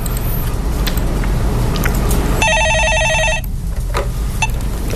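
A telephone rings with a single electronic trill burst lasting about a second, loud and close, over a constant low hum, just before a stock-market call-in show call gets picked up.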